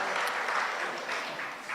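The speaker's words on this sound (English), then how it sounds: "Give him a round of applause as well" Applause from an audience at a regional corporation Divali celebration, thanking a pandit for the opening prayer: a brief, dense wash of clapping held steady throughout.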